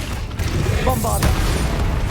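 A Bombarda spell explodes in Hogwarts Legacy, a deep rumbling boom amid a dense, loud wash of combat noise, with a voice speaking briefly over it.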